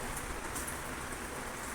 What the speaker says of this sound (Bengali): তখন মাছটা ভাজা বসিয়েছি এই দেখো